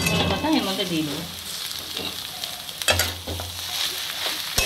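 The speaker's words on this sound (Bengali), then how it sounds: "এইভাবে পুরোটাকে ভেজে নেব একসাথে" Vegetable chop filling frying in a pan, a continuous close sizzle with scraping stir strokes, and a brief voice heard at the start.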